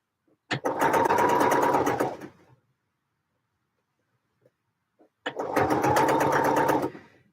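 A sewing machine running top stitching on a pocket, two bursts of rapid, even mechanical stitching about two and five seconds long, separated by a pause, close and clear.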